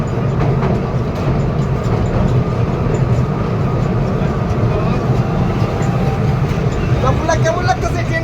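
Steady interior rumble of a moving train heard from inside a carriage near the driver's cab, continuous broadband clatter and hum throughout with no clear breaks.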